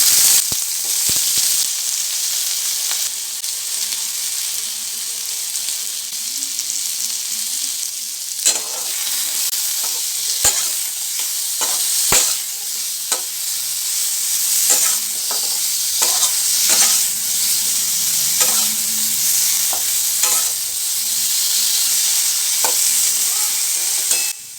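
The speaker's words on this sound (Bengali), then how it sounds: "আলুটা এখানে বেশ লাল লাল করে একটু ভেজে নেব, তার জন্য কিছুটা নুন আর হলুদও আমি দিয়ে দিলাম" Potatoes fry loudly in a pan over a cumin tempering with salt and turmeric, giving a continuous near sizzle broken by repeated scraping stirs and occasional sharp spatters.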